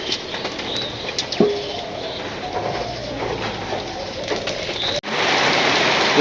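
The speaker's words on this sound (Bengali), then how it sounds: "তরকারি হয়ে গেছে, বৃষ্টিও নামতেছে, রান্নাও হয়ে গেছে।" Rain patters steadily on surfaces around a village home while pigeons coo and flap their wings nearby, with a few sharp clicks and knocks. The rain grows a bit louder after a brief break near the end.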